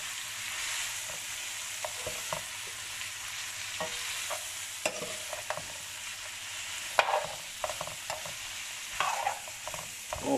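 Vegetables for achard frying in a pan while being stirred, with a steady sizzle and repeated scraping and clacking strokes from the spoon, close and fairly loud, no talking.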